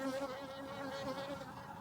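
Steady honey bee buzzing on a London farm, a clear droning hum, close and continuous, slightly wavering in pitch throughout, like bees humming near the ear.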